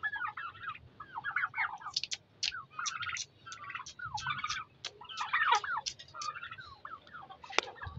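Turkeys calling on a farm, with repeated gobbling bursts and sharp clucks in a busy run of overlapping bird noise, fairly close and steady throughout, with no talk.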